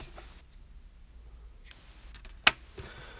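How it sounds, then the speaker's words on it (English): Scissors snip through crochet yarn after a slip stitch finishes the round, giving a couple of quiet, sharp cuts near the end amid low room noise. "You want to cut the yarn."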